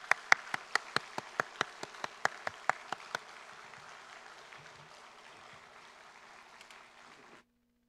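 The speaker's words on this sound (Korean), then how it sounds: "나오실 때 큰 박수로 환영하겠습니다." Church congregation clapping to welcome a ventriloquist onto the stage during a Sunday service: sharp, regular claps stand out over steady applause for about three seconds, then the clapping thins and stops abruptly near the end.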